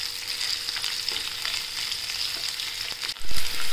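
Onion frying in oil in a pan for a spicy red pumpkin bhaji, turning reddish; a steady close sizzle with soft stirring scrapes, and a louder clatter of stirring near the end.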